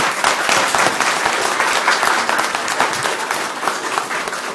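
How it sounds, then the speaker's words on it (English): A crowd at a county commission meeting gives sustained, dense applause for a high school girls basketball team. The clapping is loud and steady throughout, with no break. "let's give these kids a round of applause"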